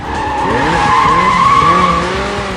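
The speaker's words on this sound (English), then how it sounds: "Those wheels spin a damned hole in the ground as he powers back up the car park." Car tires spin and squeal loudly in a car park with a steady, drawn-out screech over a roaring engine, close and continuous.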